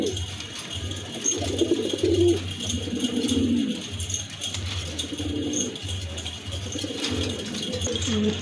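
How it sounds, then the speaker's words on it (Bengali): Pigeons of two breeds, a Shartin Blackless hen and a Spangle German Modena, coo in soft low bursts at close range, with faint rattling in the background. "এখানে কিন্তু দুই ব্রিডের দুইটা কবুতর আছে, খুবই সুন্দর"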